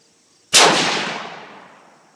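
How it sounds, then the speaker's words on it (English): A single loud gunshot from a 1939 Russian-made Mosin Nagant rifle, a sharp close crack after brief quiet that decays over about a second and a half. "I'll be firing one shot."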